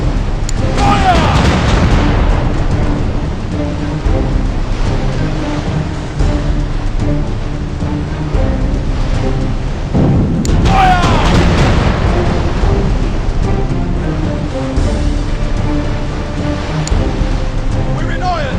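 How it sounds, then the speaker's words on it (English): Ship cannons fire in a naval video game: a few heavy booms stand out over constant sea-like rumble and wave noise, with game voices calling out throughout. "Man the guns! Fire!"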